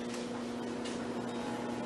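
A steady electric hum with a low tonal drone runs continuously from a microwave oven operating up close, heating freeze-dried mashed potatoes and eggs, with no voices.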